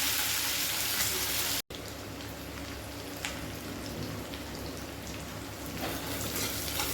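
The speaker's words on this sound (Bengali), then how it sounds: "পেঁয়াজটা একটু ভাজা ভাজা করে দেবো।" Chopped onion frying in oil in a pan with green chillies, a steady dense sizzle throughout, briefly cut off for an instant near the start, then continuing evenly and close.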